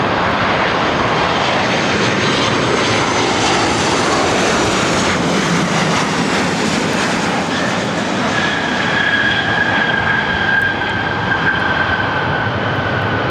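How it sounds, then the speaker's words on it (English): United Airlines Boeing 737-900ER jet arriving at LAX from Houston Intercontinental, a loud sustained engine roar with a rising whine emerging late, close and alone without talk. "This is United Airlines 2675 coming in from Houston Intercontinental on a 737-900ER."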